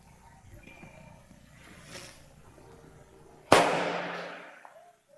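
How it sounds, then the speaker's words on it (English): A twelve-pound Napoleon cannon fires as its friction primer sets off the propelling charge: one sudden, very loud close blast after a few seconds of quiet outdoor ambience, followed by a long, fading roar. "The friction primer acted like a giant kitchen match and set off the propelling charge"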